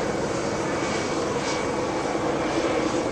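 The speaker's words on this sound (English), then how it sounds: "those are news helicopters" A continuous droning engine roar of news helicopters passing overhead, steady and loud throughout with no voices.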